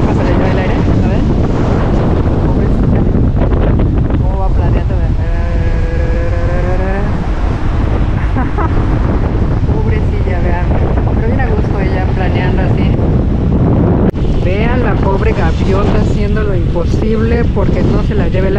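Strong wind buffets the microphone in a steady roar at sea near the Loreto islands, Baja California Sur, with a motorboat engine likely underneath and someone talking over it throughout.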